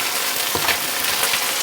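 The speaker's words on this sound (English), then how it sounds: "So while those are frying up" Shrimp fry in hot oil with a dense, steady sizzle and crackle, loud and close with no pauses.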